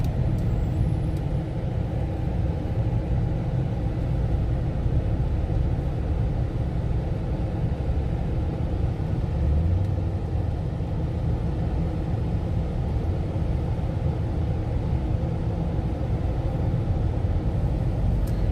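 Steady low road-traffic rumble in Austin, Texas, with vehicles, buses and trucks passing as a continuous wash of engine and tyre noise, fairly loud and without distinct events.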